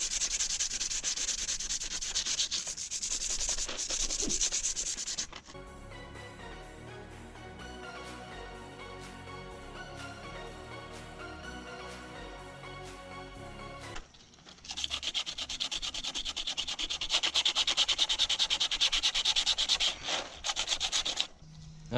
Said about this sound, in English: I'm going to sand all these first with this